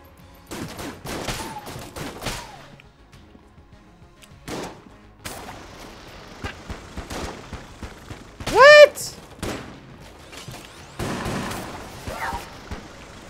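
Enter the Gungeon gunfire comes as scattered bursts of quick shots and pops through the game's soundscape, with a louder cluster of blasts midway and someone talking and laughing over it.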